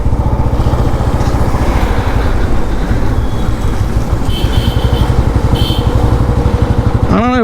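1984 Royal Enfield Bullet Deluxe 350 motorcycle with its single-cylinder engine idling close by in a steady, loud thumping beat throughout, with someone talking over it.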